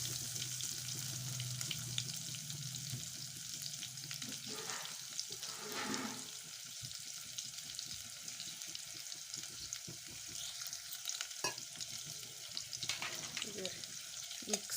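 Stuffed ridge gourd frying in oil in a pan over a lowered gas flame gives a steady, soft sizzle throughout, with a few brief stirring scrapes and a clink or two.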